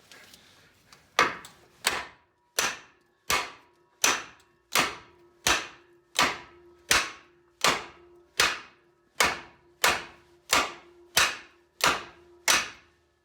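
A steady series of sharp metallic strikes from a brass hammer on the lower ball joint of a 1999-2007 Chevy 2500HD, roughly one every 0.7 seconds, each ringing briefly before the next blow.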